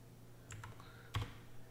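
Typing on a computer keyboard: a few quiet, close clicks and taps in quick succession over a low steady hum.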